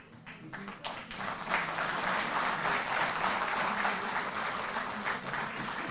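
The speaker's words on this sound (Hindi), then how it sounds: "जोरदार ताली बजती रहे" Loud, sustained applause from a crowd at a live Aam Aadmi Party event in Delhi, swelling after a brief quiet start and holding steady.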